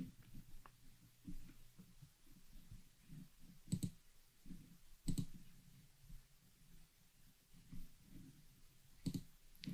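Computer mouse clicks while working in Jira project settings, soft scattered clicks at an uneven pace over a low room hum, with no voice.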